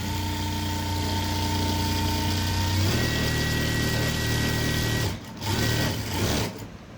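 A sewing machine stitches a blouse in a steady, loud, continuous whir of rapid stitching. The run breaks off briefly twice near the end.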